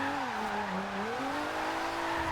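A V6 car engine in Forza Horizon 2 drones steadily, its pitch dipping and then climbing again in a continuous tonal hum with no talk.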